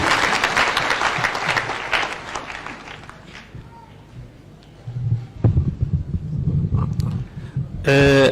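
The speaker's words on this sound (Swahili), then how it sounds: "Mpigeni makofi anapokuja" A large crowd at a church service in a stadium in Nanyuki claps loudly and continuously for several seconds, then the applause fades into murmuring. A second burst of clapping and cheering follows, and an amplified voice comes in at the very end.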